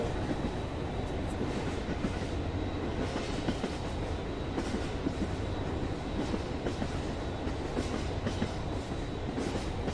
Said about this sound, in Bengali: ট্রেন চলতেছে